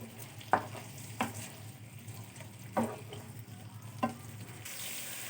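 Bottle gourd pieces being stir-fried in a pan give a faint, steady sizzle, broken by four soft scraping stirs of a spatula at roughly one-second intervals.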